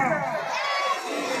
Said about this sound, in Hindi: बोलिए जय श्री राम, जय श्री राम, जय श्री राम